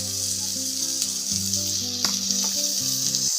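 Curry masala with chopped tomato and salt sizzling steadily in a pan, a continuous close frying hiss with occasional stirring scrapes, and soft background music underneath.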